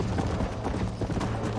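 Horse hooves clip-clop in Red Dead Redemption on Xbox 360, a quick run of rhythmic hoofbeats that is brief and fairly quiet.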